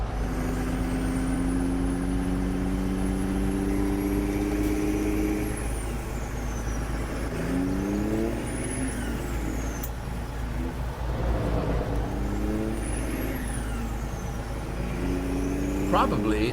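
A heavy truck engine in Farming Simulator 17, fitted with custom sounds, drones steadily, its pitch climbing and falling through gear changes, with a high whine rising now and then and brief talk over it.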